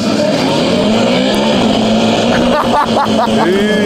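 A Ninebot go-kart drives past close by with a loud, steady electric motor whine, and a few chirping squeals near the end.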